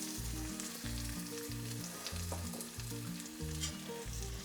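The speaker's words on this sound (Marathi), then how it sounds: "आता याच्यात आपण कांदा घालून घेऊयात" Chopped onion fries in hot oil in a kadhai for a dhaba-style garlic methi dish, giving a steady, dense sizzle with a low, rhythmic musical pulse underneath and no talking.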